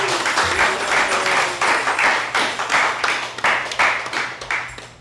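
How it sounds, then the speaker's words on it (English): An audience at a kirtan and bhakti music gathering claps in a lively round of applause, close and bright, swelling in uneven bursts with some rhythmic pulsing and a faint voice underneath. "I'd like to end with a big round of applause to all of your Kirtan singers, dancers."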